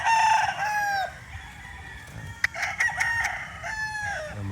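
A 5K Sweater gamefowl rooster crows nearby in a loud drawn-out call, followed by softer clucks and scattered bird sounds, then another crow starting at the end.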